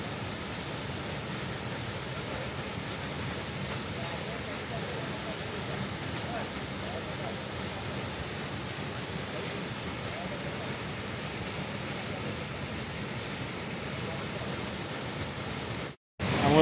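Water of the Quebrada La Cristalina runs through a canyon in the Serranía de las Quinchas, Boyacá, as a steady, close, broadband rush that holds an even level throughout with no clear breaks.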